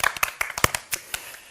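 A few people at a church service clap briefly, in quick uneven bursts of close, sharp claps lasting just over a second.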